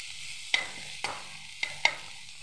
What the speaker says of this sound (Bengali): আস্তে আস্তে এটাকে ভাজবো